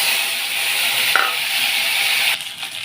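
Ginger and cumin paste hitting hot oil, a loud, dense continuous sizzle that holds steady close up and then eases slightly near the end.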